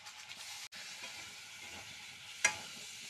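Steady, fairly quiet sizzle of raw banana and potato frying in a pan as spices go in, with a brief drop near the start and a sharper crackling burst near the end.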